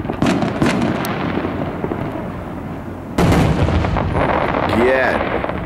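Fourth of July fireworks in Bellingham, Washington boom and crackle at a distance, several bursts with a sharp loud one midway, followed by whistling, sparkling crackles against an open outdoor background.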